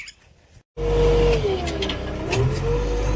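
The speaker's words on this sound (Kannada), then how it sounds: "ಫಸ್ಟ್ ಹೋಗಿ ಗಾಡಿ ಸ್ಟಾರ್ಟ್ ಮಾಡಿ ಕೆಲ್ಸಕ್ಕೆ ಹೋಗೋಣ" A JCB vehicle's engine starts on a farm: after a brief hush it catches abruptly and settles into a loud, steady, rumbling idle close by.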